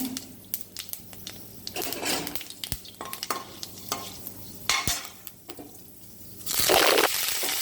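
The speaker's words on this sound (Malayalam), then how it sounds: "കടുക് പൊട്ടുന്നത്" Hot oil sizzles while mustard seeds pop and crackle in sharp irregular bursts, with a louder surge of frying near the end as fenugreek seeds are added.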